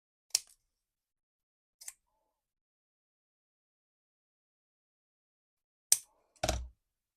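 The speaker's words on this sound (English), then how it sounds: "Let's see if I can cut it on the trimmer." Card stock sliced on a paper trimmer for a handmade gatefold card, heard as a few short, isolated cutting strokes spaced apart in a quiet room, with a louder pair of swipes near the end.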